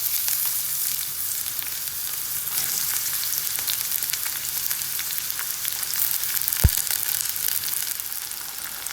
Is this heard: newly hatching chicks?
no